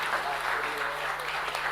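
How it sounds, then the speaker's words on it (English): An audience at a dairy sustainability event claps to welcome a government minister, a dense, even wash of applause from a crowd indoors, brief and steady. "So I request everyone to please welcome our Honorable Minister with a round of applause."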